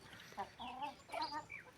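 A yellow hen clucks in a backyard flock, giving a few short, fairly faint throaty calls in quick succession, alone with no talk.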